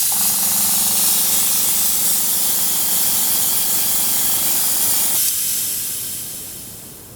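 Bronze aerosol paint sprays onto the body of a Rock Lords Slimestone toy figure in a steady, close hiss. The hiss stops after about five seconds and leaves a fading quiet.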